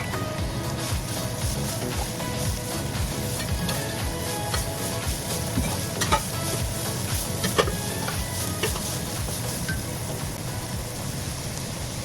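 Carrots and shredded cabbage sizzle and get stirred in a hot pan with ground beef for lumpia filling, a steady frying hiss broken by scraping utensil strokes throughout.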